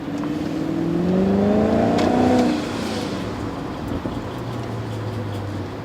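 A BMW V8 with a hole in its exhaust revs up with a raspy rising roar, peaks for a moment and drops back to a lower rumbling idle, close and alone.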